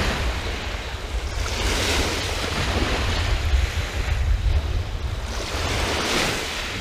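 Waves wash continuously onto a Lake Michigan beach, a steady broad surf roar with swells building around two and six seconds, mixed with wind buffeting the microphone; no one speaks.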